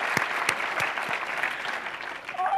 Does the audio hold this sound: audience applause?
yes